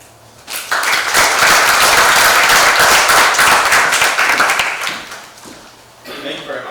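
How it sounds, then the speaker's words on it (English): Loud, sustained audience applause for youth court graduates at a county graduation ceremony, dense clapping swelling for several seconds, then tapering off as a voice begins to speak. "At this moment, we ask that you please hold your applause"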